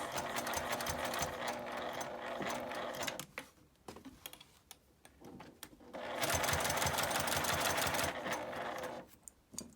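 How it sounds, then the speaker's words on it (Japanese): A sewing machine stitches felt fabric for a small coin purse, running in steady bursts of rapid needle clatter separated by short pauses, close and fairly loud. "ここも1センチの縫い代なので1センチ手前でミシンを留めます。"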